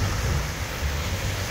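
Waves wash steadily against a lake shore at a beach, a continuous close rush of water blended with heavy wind buffeting the microphone, with no talking.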